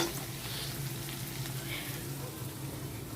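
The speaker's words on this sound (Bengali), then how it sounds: "পেঁয়াজটা ভালো করে ভেজে নিলে খুব সুন্দর টেস্ট হয়" Onions frying in a pan until lightly reddened give off a soft, steady sizzle throughout, fairly quiet and unbroken.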